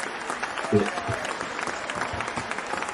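Brief crowd applause in the spirit of a tennis cheer, with steady light clapping throughout and a voice talking over it.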